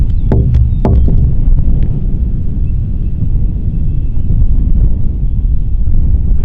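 Heavy wind buffets the microphone in a constant low roar, with a few sharp knocks near the start.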